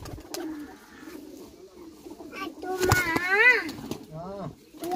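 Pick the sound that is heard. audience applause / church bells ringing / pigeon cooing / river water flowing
pigeon cooing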